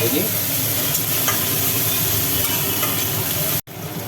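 Chopped tomato fries in a pan while being stirred, a steady close sizzle with scraping stir strokes throughout and a brief dropout near the end.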